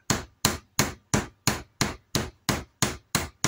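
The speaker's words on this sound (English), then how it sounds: "that is a properly peened rivet" A hammer peens a saddler's rivet with ten evenly spaced, sharp metallic taps, close and clear with nothing else heard.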